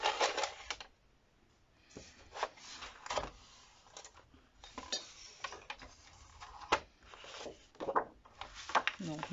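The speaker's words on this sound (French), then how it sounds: "nous allons faire avec" A guillotine paper trimmer cuts kraft paper with a series of sharp clacks and scraping slices, irregular and close, separated by quiet pauses.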